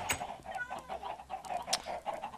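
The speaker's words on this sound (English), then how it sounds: "It's my convenient underground chicken farm." Video game chickens cluck softly in an underground chicken farm, a quiet run of repeated short clucks in an uneven rhythm, fairly faint with no talking.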